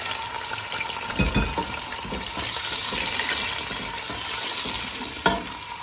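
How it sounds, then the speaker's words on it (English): Canned tomatoes tipped into a hot pan of sizzling spices for a tomato chicken curry, a steady loud frying hiss with stirring scrapes and a couple of brief thumps, no talking. "I'm gonna add the tin tomato first."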